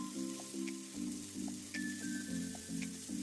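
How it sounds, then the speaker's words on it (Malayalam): Onion, green chili and chopped carrot sautéing in a pan give a steady close sizzle with rhythmic pulses of stirring, a faint tone running over it, and no voices. "പിന്നെ അതിലേക്ക് പച്ചമുളകും ക്യാരറ്റ് ചോപ്പ് ചെയ്തതും കൂടി ചേർത്ത് ഒന്ന് വഴറ്റിയെടുക്കുക"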